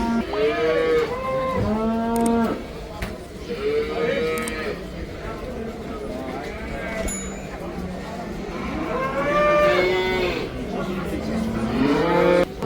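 Cattle at a livestock market moo repeatedly, several long drawn-out calls close by, over a steady hum of crowd noise and voices.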